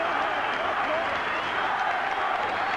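A football crowd applauding Glentoran at half-time in a 1990 Cup Winners' Cup match against Steaua in Belfast, a steady, dense wash of clapping and crowd noise that holds unbroken throughout.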